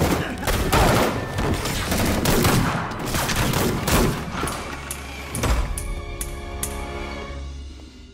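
Gunfire in Spider-Man Remastered on PS5: rapid bursts of loud shots and sharp cracks over a few seconds, with booming low impacts and ringing tails trailing off toward the end.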